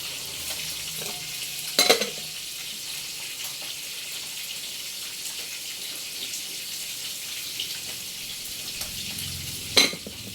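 Quiet, steady sizzling of rice frying in a pan, with two brief sharp clatters of a utensil scraping against the pan.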